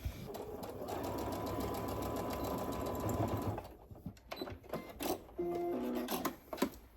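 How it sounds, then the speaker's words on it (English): A sewing machine stitches a straight line across fabric for a heatless hair curler: a steady, rapid mechanical whir for several seconds, then stopping and giving way to a few scattered taps and handling noises. "I'm going to sew a straight line right here."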